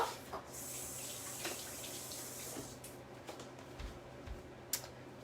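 Tap water runs steadily into a kitchen sink as produce is rinsed, a continuous hiss with small splashes and clatters throughout.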